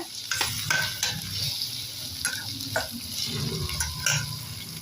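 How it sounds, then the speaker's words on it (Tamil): Tomatoes sizzle and fry in a pan for garlic thuvayal as a utensil stirs them, with repeated scraping clinks over a steady crackle. "தக்காளி போட்டு ஒரு ரொம்ப நல்லா கலந்து விடுங்க"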